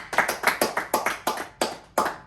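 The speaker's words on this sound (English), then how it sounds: "Joseph Capone, in honor of the Shiesty, we're gonna give him a couple claps." A series of about eight sharp hand claps in a steady rhythm, close and distinct, with no talk between them, heard during a podcast recording.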